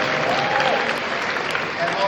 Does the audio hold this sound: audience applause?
yes